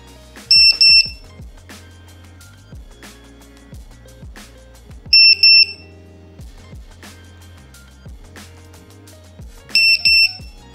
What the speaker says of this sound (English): I also needed a buzzer, so I went with the V-Fly Finder 2, which is super duper loud and annoying, like a buzzer should be.